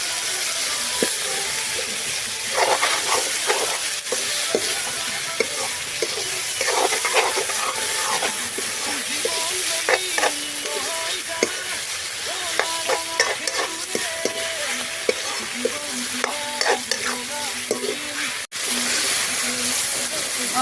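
Chopped tomatoes added to golden-browned onions frying for chicken curry, a continuous sizzle and hiss under repeated clinks and scrapes of stirring.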